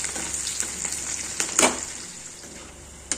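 Sliced onions frying in plenty of oil until deep brown for beresta, a continuous close crackling sizzle with sharper spitting bursts now and then.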